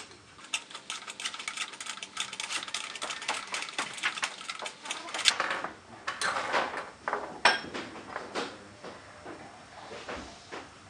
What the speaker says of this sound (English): Unscrew air fitting.